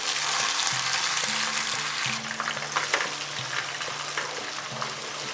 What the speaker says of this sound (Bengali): এই বাটা মশলাটাকে একটু সময় নিয়ে কষিয়ে নিতে হবে।